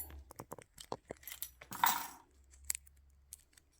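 Nail scissors snipping and trimming the jacket of a Cat5 network cable, a quick series of sharp, close metallic clicks and cuts with a brief louder rasp in the middle, no talking.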